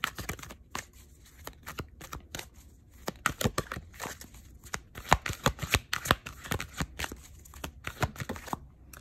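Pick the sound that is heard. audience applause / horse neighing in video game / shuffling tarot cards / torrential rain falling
shuffling tarot cards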